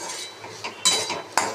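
Fried kharkol leaves are stirred in a pan, with soft scraping and two sharp metallic clinks of the spoon against the pan.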